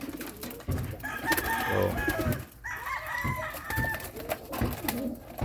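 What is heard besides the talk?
pigeons cooing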